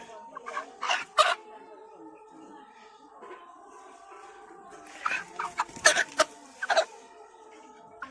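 Chickens cluck in short bursts, with a black hen among a backyard flock of roosters and hens. A steady background hum runs under the clucks, and the calls cluster near the start and again toward the end.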